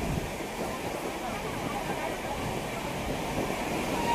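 The Kumbh Express, bound from Howrah to Haridwar, rumbles along steadily, a continuous close interior roar and rattle of the moving train with no break.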